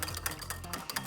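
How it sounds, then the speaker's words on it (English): A small whisk stirs salad dressing of chili lime, salt and pepper in a bowl, giving a quick, steady run of light clicking and scraping strokes, close and soft with no talking. "Just take a little whisk. Whisk that bad boy together."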